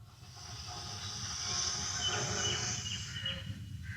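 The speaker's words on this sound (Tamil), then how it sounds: "மறுபடியும் வலது நாசு வழியாக மூச்சு இழுக்கிறோம்" A steady, soft nasal hiss of breath drawn in through the right nostril during a yoga breathing exercise, rising gradually and holding, close and quiet with no talking.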